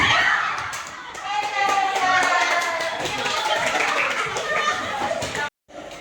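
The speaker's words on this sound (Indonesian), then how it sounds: "tepuk tangan, tepuk tangan, tepuk tangan, tepuk tangan" Children in a classroom clap their hands together in quick rhythmic bursts during an ice-breaking game. Their voices chant along with the clapping, close and lively, until it cuts off abruptly near the end.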